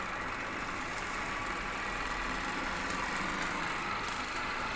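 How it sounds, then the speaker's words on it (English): A single-phase series motor on a 24-volt lab bench starts and runs, giving a steady, even hum with broadband whir and no speech over it. "Now we on the machine. See, this machine has started."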